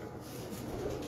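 Pigeons cooing nearby, a soft low murmur that runs steadily through a brief moment.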